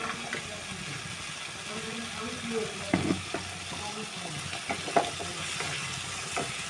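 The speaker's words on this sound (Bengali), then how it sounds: "শুকিয়েছে এবার আমি কড়াইচুটিগুলো দিয়ে দিলাম" Green peas go into a hot wok, which gives a soft sizzle with a few stirring clinks and scrapes, close but fairly quiet, and no one speaks.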